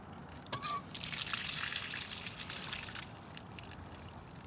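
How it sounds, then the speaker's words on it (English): Water drains out of a shut-off Woodford Model 17 frost-free outdoor faucet, a close, steady hissing gush that starts abruptly after a faint drip and carries on evenly. "It's off, but it is draining out, and that indicates to me that this valve is installed properly."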